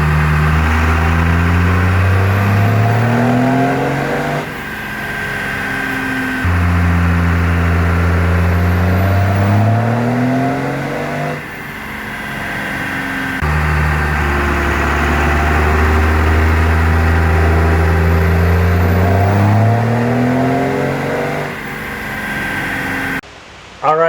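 A stock turbocharged car engine on a dyno, revving hard through several repeated sweeps: each pull climbs steadily in pitch, then drops back before the next run, loud and close with no talking.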